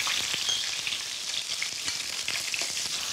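Honey frying in a hot pan gives a dense, bright, continuous sizzle with crackling pops throughout, steady and close, with no voices.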